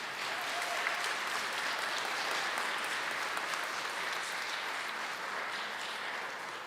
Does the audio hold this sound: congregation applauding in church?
yes